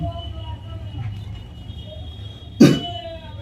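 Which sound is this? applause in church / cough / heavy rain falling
cough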